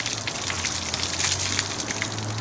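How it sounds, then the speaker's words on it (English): Water spraying steadily onto a UTV windshield, rinsing off dirt in a continuous close hiss and patter that runs unbroken and fairly loud, with a low hum beneath. "Just going to rinse all that dirt off."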